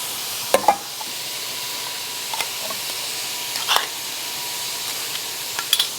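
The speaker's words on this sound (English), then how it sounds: "let's check out our mushrooms. All right, they are nice and sauteed." Mushrooms sauteing in a pan give a faint, steady sizzle, with a few soft utensil clicks and stirring knocks scattered over it.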